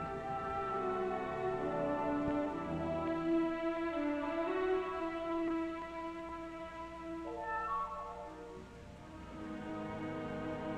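A freight train's horn sounds in long, sustained blasts over a rolling rumble, shifting pitch as the train passes.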